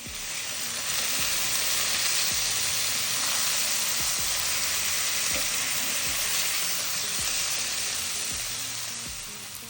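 Champignon mushrooms fry with crushed garlic and butter in a pan, giving a loud, steady, dense sizzle that holds without a break, and nobody speaks.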